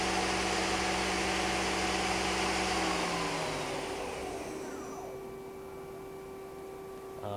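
A 2013 Samsung SL-20/500 CNC turning center spindle spinning at around 3000 to 3700 RPM, a loud steady broadband whir with tonal hum that winds down gradually, leaving a faint residual drone.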